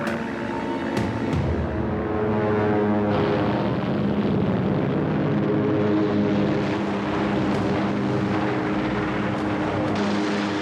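WWII fighter planes take off from the aircraft carrier Yorktown at Midway, a loud, continuous propeller-engine drone with throbbing tones that swells and holds steady.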